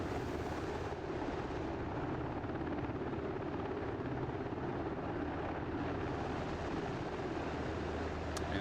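A Black Hawk helicopter flies over Afghan mountains in the DCS flight simulator, its steady loud rotor thrum and turbine whine sustained throughout with no voices.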